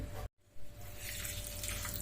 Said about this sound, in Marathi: साखर भिजल एवढंच आपल्याला पाणी घालून घ्यायचं आहे